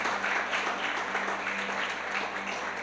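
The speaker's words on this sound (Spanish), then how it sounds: "Ese aplauso para el Señor." A church congregation at a Venezuelan service applauds for the Lord, a steady wash of clapping that holds at an even level for the whole stretch, with a low hum underneath.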